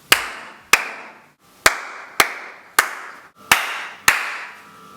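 Sharp single hand claps ring out one at a time, six in a steady, evenly spaced series, each loud and close with a short ringing echo tail in a small room.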